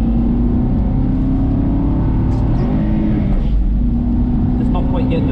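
Aston Martin V8 Vantage engine droning loud and steady on Knockhill Racing Circuit, held at high revs with a brief dip around a gear change midway, constant in-car roar throughout.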